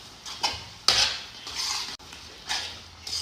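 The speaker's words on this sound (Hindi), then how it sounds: "और फिर से इसको मिक्स करेंगे अच्छे तरीके से।" A spoon stirs a chicken mixture with soy sauce in a pan, giving several quick scraping and clinking strokes against the metal with a faint sizzle underneath, close and fairly quiet.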